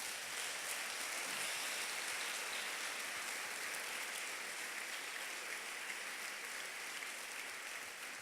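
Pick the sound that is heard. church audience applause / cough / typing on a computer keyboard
church audience applause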